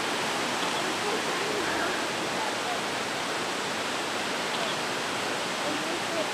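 Barron Falls rushes in a steady, dense roar of falling water, seen from the Kuranda Skyrail near the Barron Gorge hydroelectric station, loud and unbroken throughout with no voices.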